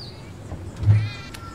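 A single short cat meow from a video game called Downfall, with a rising and falling tone, heard alone at moderate loudness over a faint background.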